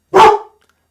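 A single loud, close bark from a pet dog, short and sharp against silence.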